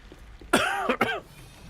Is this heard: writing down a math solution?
no